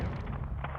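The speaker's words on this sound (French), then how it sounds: "Ça explose tout." Explosion in the video game Modern Warfare 2 during a combat mission, a loud, deep, sustained blast rumble filling the brief moment without any voices.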